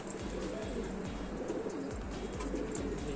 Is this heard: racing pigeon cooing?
yes